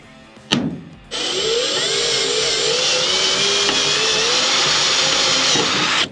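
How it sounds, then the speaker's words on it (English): A power drill bores out a stripped, broken bolt, whining at a steady, sustained pitch close by for about five seconds after a brief knock. "No time like the present to teach a kid how to drill out a broken bolt."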